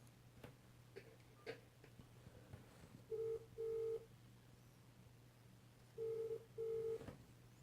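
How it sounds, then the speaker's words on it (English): A WatchU kids' smartwatch places a call that rings out, a faint room background broken by two pairs of short electronic ring tones, quiet and close. "It's ringing now."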